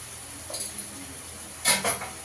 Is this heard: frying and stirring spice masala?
yes